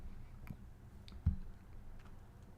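A single crisp click of a computer mouse, brief and close, against a faint hum of room noise.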